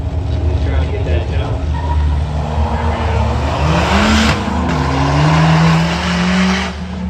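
Cars launch side by side against a quick truck at a spectator drag race, engines climbing through rising revs with tire squeal and a sharp gear-change dip, loud and close throughout.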